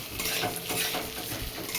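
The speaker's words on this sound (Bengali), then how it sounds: "মুগ ডালটা ভালো করে ভেজে নিচ্ছি" Mung dal is stir-fried in a pan with dried red chilli, cumin and bay leaf, a spatula scraping and stirring steadily over a soft continuous sizzle.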